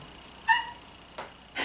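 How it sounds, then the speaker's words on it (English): A pet cat gives a short, faint meow in a quiet room, followed a moment later by a couple of soft, breathy noises. "That's my cat."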